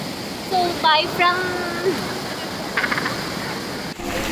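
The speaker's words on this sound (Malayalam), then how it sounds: "അരുവിയല്ല, എല്ലാ വെള്ളവും വന്ന് ഇവിടോട്ട് വീഴും" Water crashes into a pool beneath a waterfall in Bali, a steady close roar of broadband rushing, with a voice speaking over it.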